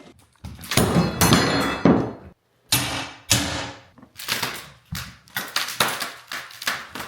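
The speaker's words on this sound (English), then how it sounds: "first thing we're going to do though, is try and get up this old floor, which I think is going to be a bit of a fight" Thick old hardwood flooring in a 1980s house being pried and ripped up, a string of loud close thunks, cracks and splintering bursts with short gaps between them.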